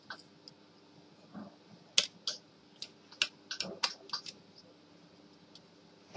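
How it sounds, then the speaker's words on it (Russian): A plastic part of a Samsung MLT-D101 toner cartridge snapping into place, heard as a scatter of small, close, crisp clicks and ticks over a quiet background. "До щелчка."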